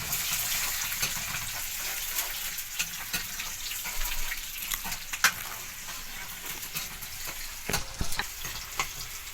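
Onions frying in a pan for a potato, eggplant and pea curry, a steady close sizzle with scattered crackles and stirring scrapes throughout, no talking.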